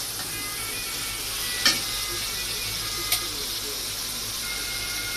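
Bottle gourd cooks in a pan with fish, giving a steady, close frying hiss. A couple of sharp utensil clicks cut through, and there is occasional speech over the cooking.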